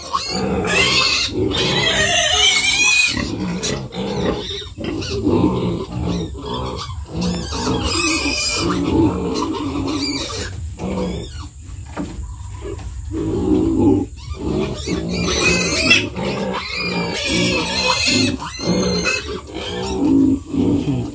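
Weaned piglets, newly separated from their mother's milk and recently suffering diarrhea, squeal and grunt loudly and continuously, with many overlapping cries filling the whole stretch and no voices heard.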